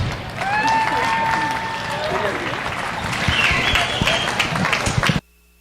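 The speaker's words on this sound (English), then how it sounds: "Let's give them all a nice round of applause." Crowd applause for livestock showmen at a county fair junior livestock show, a steady wash of clapping for about five seconds before cutting off abruptly, with a few whistles and some voices mixed in.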